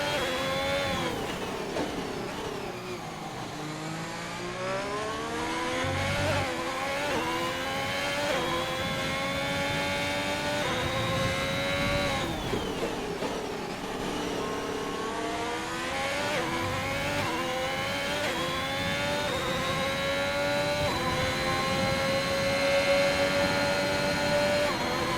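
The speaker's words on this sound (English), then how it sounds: "listen to that Ferrari engine scream out the back of the hash chassis" An onboard Ferrari engine screams out of the back of a racing car chassis at the Sao Paulo Grand Prix of Brazil. Its revs climb in long sweeps, drop sharply at each gear change, and run unbroken and loud.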